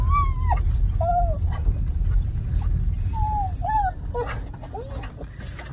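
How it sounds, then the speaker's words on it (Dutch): An excited dog whimpers and yips in short, high, rising whines, several times over a low rumble like a running car engine. "Maar de Joepeman is een heel blij hond. Hij vindt het helemaal spannend"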